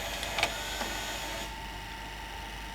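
A National NV280 VCR mechanism whirs steadily in autoplay after a belt kit service, with a few faint clicks and clunks near the start before settling into a constant motor hum.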